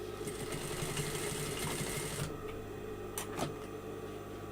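A sewing machine runs steadily, stitching fabric down in a continuous close whirring hum that stops partway, followed by a couple of brief clicks or bumps, with no talking.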